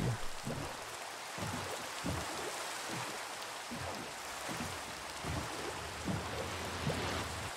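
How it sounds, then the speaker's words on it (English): Steady rain in Minecraft hisses and patters continuously, with soft low thumps scattered throughout; no voices. "it's probably the rain"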